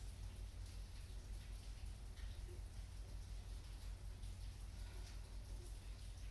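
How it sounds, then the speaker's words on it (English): Steady rain falls outside, a faint, even hiss of drops with occasional soft patters, continuous and distant beneath a quiet indoor room. "If you hear rain, it's raining where I live, so that's just the background noise."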